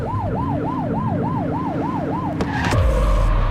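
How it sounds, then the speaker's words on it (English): A police car siren wails in a rapid rising-and-falling pattern in the video game The Precinct, close and loud over engine rumble, then breaks off into a deeper revving vehicle sound. "You're only meant to use the siren in emergencies."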